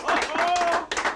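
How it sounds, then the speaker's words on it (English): A round of applause and clapping from a relieved group, dense and close, with a brief dip before the clapping picks up again; a whistle-like tone cuts through the middle. "Come on, it's worth a round of applause."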